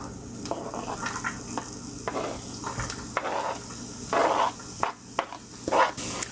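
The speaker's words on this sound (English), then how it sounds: "So we've got oil in the pan, and now we're gonna put veggies in the pan." Vegetables, onion and garlic frying in hot oil in a pan, a steady close sizzle with stirring scrapes and a few louder bursts as food is moved around.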